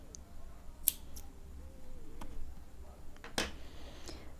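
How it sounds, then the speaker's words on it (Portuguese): Scissors snip leftover yarn at a crochet project, two or three quiet, sharp clicks spaced apart against a faint background. "Deixa eu cortar a sobrinha de fio."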